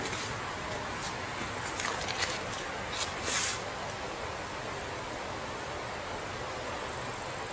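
Steady, broad rushing water fills a canyon, constant and fairly close, with a few faint brief sounds surfacing over it.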